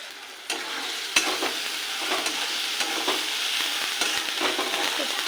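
Chili, coriander and turmeric powder masala fries in hot oil in a pan, a steady close sizzle broken by sharp spatula scrapes and stirs, with no talking.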